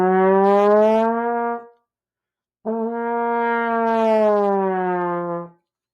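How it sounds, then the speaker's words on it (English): Trombone glissando played by moving the slide: two sustained, loud, brassy notes, each bending smoothly in pitch, with a short silence between them. "the trombone is because it has this slide, it can do what no other instrument can do, is it can do a glissando"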